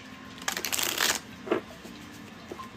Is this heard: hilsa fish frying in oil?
no